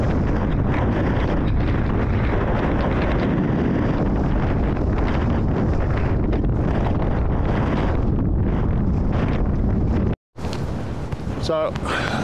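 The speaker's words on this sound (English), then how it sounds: "that wind's strong enough to be blowing me over." Strong wind buffeting a microphone on a remote hill in Wales, a loud continuous roar with gusts, cut briefly by a dropout before resuming.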